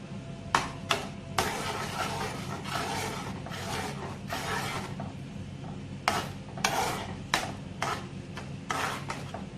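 A spoon stirs cheese into a white sauce for pasta, giving quiet scraping and squelching strokes in irregular bursts over a soft background hum.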